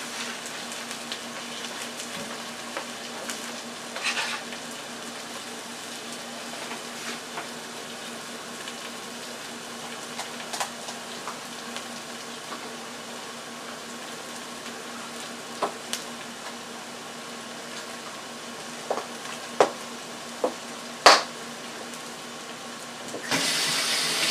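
Onions sizzling in a hot pan while hash browns are made, a steady close hiss with a faint background hum, a few small clinks and stirring taps, and a louder burst of noise right at the end.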